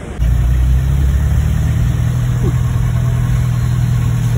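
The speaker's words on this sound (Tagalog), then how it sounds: "Sumakay na lang ako ng jeep papunta ng Libertad." Jeepney engine running steadily while riding in rain, a loud continuous low rumble with a mid-range drone throughout, no talk.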